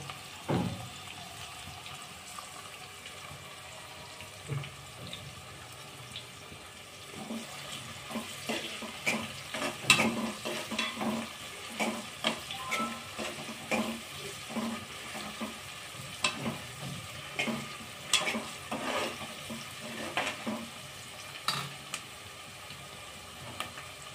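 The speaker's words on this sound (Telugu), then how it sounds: "మంచి గోల్డెన్ బ్రౌన్ వచ్చేంత వరకు ఈ యొక్క పీసెస్ను కట్ చేసి వేయించుకుంటున్నానండి" Cut fish pieces fry in hot oil until golden brown for a fish curry, a continuous soft sizzle broken by frequent sharp clinks and scrapes of stirring, close and quiet, with no speech.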